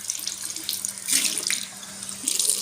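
Water runs steadily from a sink tap into a basin during tooth brushing, a continuous close hiss with brief surges and no talking.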